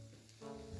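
Shallots hit a hot pan partway through and set off a steady, close sizzle that fills the rest of the short moment.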